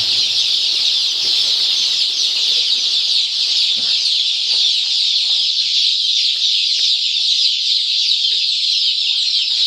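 Dense, constant high peeping of many chicks mixed with occasional clucks from chickens on a farm in Uzbekistan, loud and close with no voices over it.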